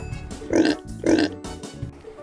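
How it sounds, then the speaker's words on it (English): A pig grunts and oinks in two loud, close bursts, with a fainter snort near the end. "A pig makes a oink sound."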